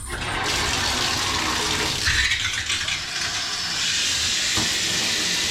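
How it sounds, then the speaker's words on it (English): Water gushes from a hotel room shower, a steady close hiss of spray that shifts slightly as the flow changes, with no talking. "To me it looks like it needs a little more water pressure"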